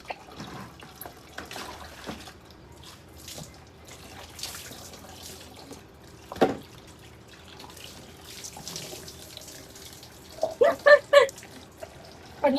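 Water runs from a hose pipe on a balcony during cleaning, a soft continuous trickle with occasional splashes and drips, louder bursts of splashing near the end.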